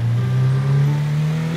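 A car being driven in GTA V roleplay, a steady, loud engine drone holding a constant pitch with no voices.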